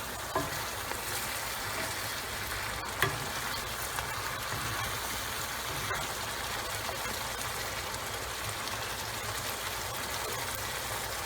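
A prawn and tofu curry sizzles in hot oil, giving steady close frying crackle throughout with a few faint stirring knocks and no talking.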